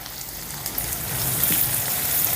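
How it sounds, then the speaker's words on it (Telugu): Cashews, ginger, green chili and finely chopped onion fry in hot oil for idli upma, giving a steady, soft, close sizzle that holds even throughout, with no talking. "ఇప్పుడు రెండు నిమిషాలు వీటిని వేపుకుందాం"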